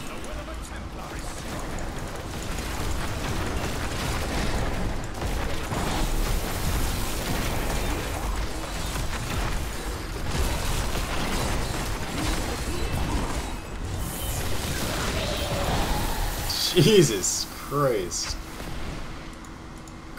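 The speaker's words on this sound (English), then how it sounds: "Corpse explosion is ridiculous." Necromancer's corpse explosion spell going off in Diablo 3, a dense rumbling wash of bursts and crashes layered with game effects, with a sharper cluster near the end and someone talking over it.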